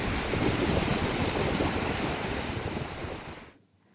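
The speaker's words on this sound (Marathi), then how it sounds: "धरणाच्या सांडव्यावरनं पाणी वाहतंय" Water rushes over a dam spillway in Maharashtra after heavy monsoon rain, a steady, dense roar of broadband noise that fades out abruptly at the end, with no voices.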